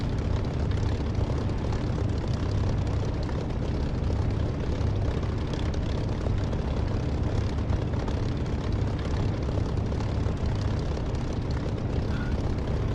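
Aircraft engine roaring steadily at high power during takeoff in the DCS flight simulator, a loud continuous drone with propeller-like throb that holds unbroken throughout.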